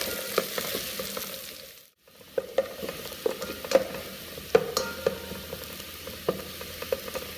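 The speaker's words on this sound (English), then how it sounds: "fry it until the onions are brown." Onions fry in hot oil with curry leaves and pandan leaves for Sri Lankan chicken biryani, a steady soft sizzle broken by a brief gap and scattered crackles and stirring taps.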